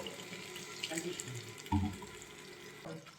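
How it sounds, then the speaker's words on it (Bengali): A little water is poured into tomatoes cooking down into a mash for tomato bharta, giving a soft, close trickle and splash that swells briefly midway, with quiet kitchen background. "আমি সামান্য পরিমাণে একটু জল অ্যাড করব"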